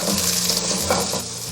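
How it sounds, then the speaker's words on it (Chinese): Scallion whites stir-fried in leftover oil in a wok, a steady loud sizzle with scraping spatula strokes running throughout, close and without talk. "直接用底油炒香葱白"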